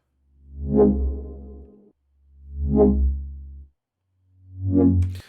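Three slow, swelling synth notes, each rising and fading smoothly with a dry, warm tone and short gaps of silence between them.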